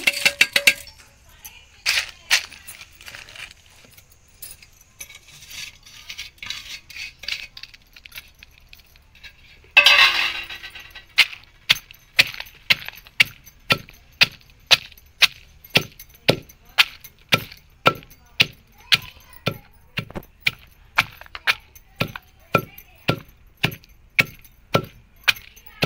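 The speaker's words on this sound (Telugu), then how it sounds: "ఇప్పుడు రోటి దగ్గరికి వెళ్ళి కరివేపాకు కారం దంచుకుందాం" Roasted curry leaves and dried chillies pounded in a stone mortar: a few scattered knocks at first, then a long run of steady, evenly spaced thuds, close and clear with no talk.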